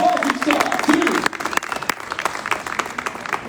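Crowd at a Portuguese cycling race, the Figueira Champions Classic, applauding and cheering local riders, a steady dense roar of clapping with sharper bursts, fairly close and loud throughout.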